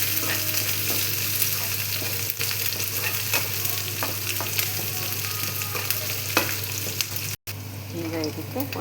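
Onions sizzle and fry in a pan, stirred steadily over nearly nine seconds, with a constant loud hiss and scraping spoon strokes close by, briefly cut off near the end.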